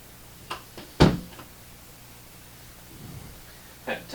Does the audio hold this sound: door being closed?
yes